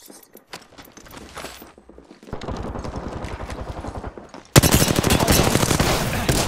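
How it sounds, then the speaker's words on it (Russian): Rapid gunfire in a shooter video game, starting with scattered shots and then swelling into loud, dense bursts of automatic fire that end in a sustained, close volley. "Берегись, Стреляют, да еще и в меня!"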